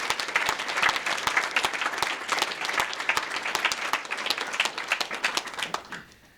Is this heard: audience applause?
yes